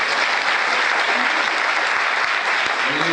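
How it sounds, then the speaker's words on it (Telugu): A church congregation claps together in sustained, dense applause that stays loud and even from start to finish. "అందరూ చప్పట్లు దేవుడు స్తోత్రం"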